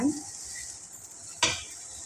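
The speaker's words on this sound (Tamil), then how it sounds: "கொஞ்சம் நல்லா கிளறி விடுங்க" Broccoli and grated coconut stir-fry being stirred in a pan over low heat, a faint steady sizzle marked by one sharp clink of a utensil against the pan, with no voices.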